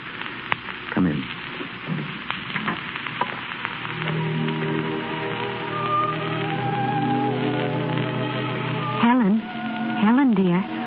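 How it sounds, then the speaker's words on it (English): A heavy rain sound effect runs through a vintage radio drama as a continuous hiss under voices, with a speaker talking over it and a steady low hum beneath. "It's raining awfully hard."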